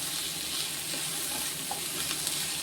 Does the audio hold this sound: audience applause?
no